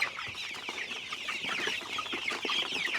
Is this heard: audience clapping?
no